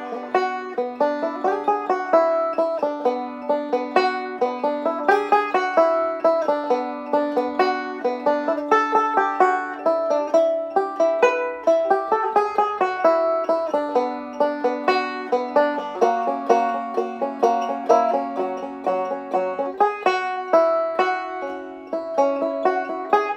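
Banjo picking the Beatles' "Day Tripper" riff, a dense, steady stream of bright plucked notes repeating the figure continuously and close up, with no talking over it.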